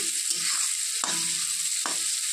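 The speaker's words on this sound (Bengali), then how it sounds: "তো বেগুনটাকে একটু ভেজে নিতে হবে।" Eggplant frying in a home-cooking pan after salt and turmeric are added, giving a steady close sizzle with a few sharp stirring scrapes against the pan, and no talking.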